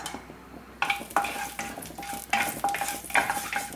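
A piece of cinnamon stick, two cloves and two cardamom pods sizzle in hot oil for spinach rice, a steady frying crackle broken by repeated sharp metal clinks and scrapes of a spoon stirring in the pan.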